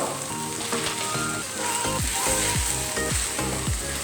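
Noodles and vegetables stir-frying with soy sauce in a hot pan, a steady close sizzle broken by repeated scraping and tossing strokes of the utensil, with no voices.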